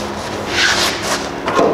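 A metal scribe scrapes across sheet metal while a line is marked on a skoolie roof raise transition panel, giving a short, close, continuous rubbing scratch that swells and fades over under two seconds.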